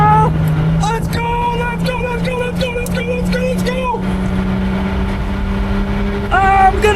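4x4 cars in a slow desert race give off a steady droning engine hum with rising, whining tones, close and loud, while people talk and shout excitedly over it.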